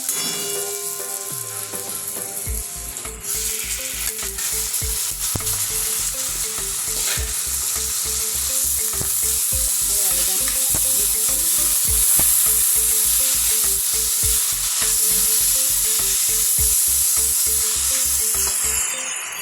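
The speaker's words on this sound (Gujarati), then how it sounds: "આપણું વેજીટેબલ બધું સતળાઈ ગયું છે હવે આપણે આમાં બાજરી ઉમેરીશું" Vegetables and bajra millet being stirred in a pot for Gujarati bajri khichdi, a steady rhythmic scrape of the spoon over a continuous sizzling fry, close and fairly loud with no talking.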